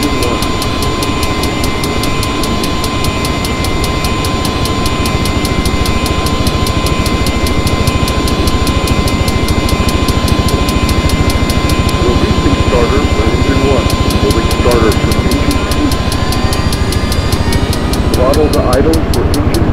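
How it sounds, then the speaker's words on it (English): A Hind helicopter's engine 1 spins up on the starter in the game Take On Helicopters, a loud steady turbine whine with a rapid rhythmic chopping pulse, constant and close throughout. "Holding starter for engine 1. Throttle to idle for engine 1."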